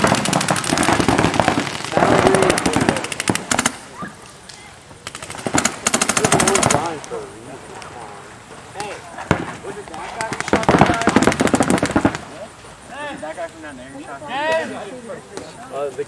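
Rapid gunfire shots ring out in loud, close bursts during an outdoor game at SEPS Asylum, with people shouting and talking over and between the volleys.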